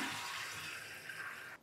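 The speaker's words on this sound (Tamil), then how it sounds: "ஸோ இங்கே ஃப்ளஷ்." A toilet flushing in a spacious modern air-conditioned restroom in Chennai, a close rushing surge of water that fades steadily before cutting off abruptly.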